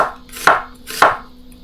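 Knife slicing onion thinly for quick pickled onions: two crisp, close cuts about half a second apart, each a sharp snap through the layers ending with a tap on the cutting board, with quiet between.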